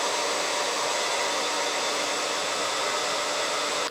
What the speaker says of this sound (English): I am going to dry my hair and then I'll come back and show you what it looks like.